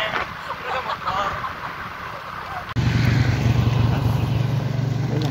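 Motorcycle ride: a steady engine drone and wind rumble, growing louder and denser about halfway through as the bike picks up, close and continuous with no talk.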